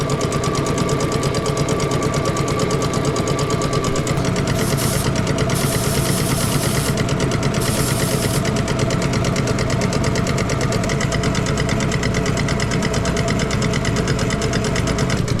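A belt-driven air compressor, under repair with its belt tension being adjusted, runs steadily with a continuous, rhythmic mechanical chatter and drone at close range.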